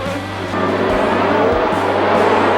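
Formula One cars roaring off the grid at the start of the 1985 Belgian Grand Prix, with Ayrton Senna's Lotus among them. The engines make a loud, dense, sustained howl that builds slightly over the short stretch.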